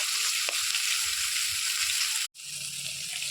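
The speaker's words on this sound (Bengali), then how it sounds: "কই মাছগুলোকে আগে ভালোভাবে ভেজে নেব" Koi fish frying in oil in a hot pan, a dense continuous crackling sizzle that briefly cuts out once before resuming.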